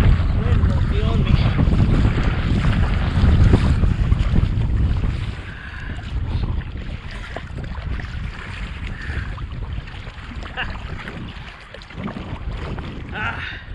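Strong wind buffets a campsite, a loud roaring rush that batters the microphone for several seconds, then eases to a lower, gusty blustering.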